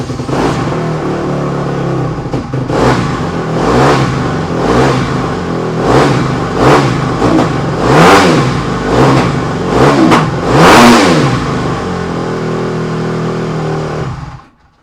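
A Honda CRF150R dirt bike engine with a re-jetted carburetor runs close and loud, revved repeatedly in rising and falling blips before it cuts off abruptly at the end.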